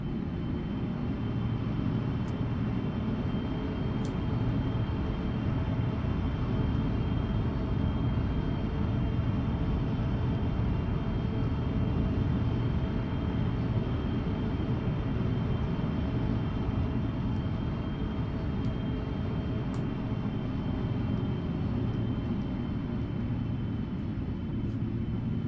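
Boeing 777-200LR engines in a flight simulator game, a steady low roar and hum as the jet taxis, continuous and unchanging throughout.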